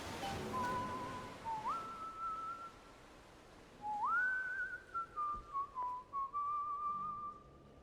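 Whistling in the Bioshock Infinite game world, a clear, moderately quiet melodic whistle rendered as two long sliding phrases, the second longer and wavering, with no talk.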